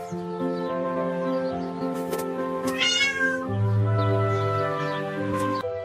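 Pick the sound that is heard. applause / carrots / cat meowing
cat meowing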